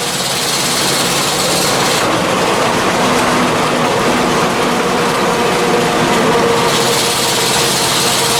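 A truck engine runs steadily in fourth gear at about 35 with light throttle, a loud continuous rumble and rattle heard from inside the cab, unbroken throughout.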